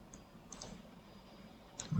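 A computer mouse clicks Next in the OBS installer, a few faint, sharp clicks spaced apart over quiet room noise.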